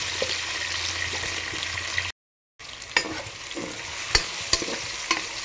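Tomatoes frying with softened onions in a pan for egg biryani give a steady close sizzle, with sharp stirring clinks and scrapes near the end and a brief silent gap partway through.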